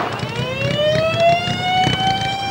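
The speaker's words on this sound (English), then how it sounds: "Ventura Sheriff's red lights and siren and all that." A sheriff's patrol car rolls through a small-town parade with its siren wailing, a loud, rising electronic tone that sweeps steadily upward over street and engine noise.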